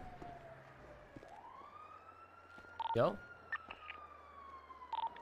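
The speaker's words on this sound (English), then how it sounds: "I hear sirens." A distant police siren wails steadily outside in the video game Rust, faint and continuous, with a short spoken word and some clicks and thumps nearby.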